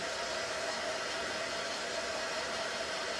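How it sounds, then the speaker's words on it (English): Hair dryer blowing on a homemade snow globe craft, a steady loud whooshing roar with a faint motor whine, unbroken throughout and with no speech. "I think I'm going to go ahead and hit this with my dryer now because I'm ready for it."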